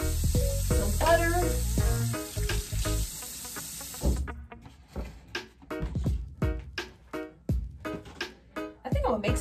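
Butter sizzles in a pan over a camp cooking setup, a bright, dense hiss that fills the first few seconds before fading into sparse crackles, with rhythmic music playing throughout.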